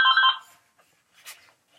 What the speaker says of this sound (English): Just disregard the phone call.